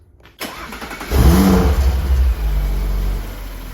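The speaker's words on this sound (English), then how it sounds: "Let me go ahead and turn the car on and hear how it sounds." An Audi RS5 engine fitted with an AWE intake cranks and catches, roaring up briefly before settling into a steady, loud idle close by.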